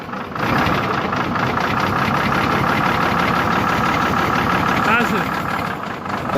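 A Hino Euro 8C diesel truck engine with an oil leak fault runs loud and close at a lightly raised, steady rumbling idle, with a voice briefly speaking over it.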